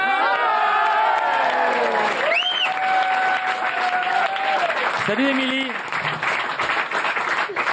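Studio audience applause and cheering fill the background during a live radio phone call, continuous and fairly loud beneath a voice greeting the caller and some brief whistling tones.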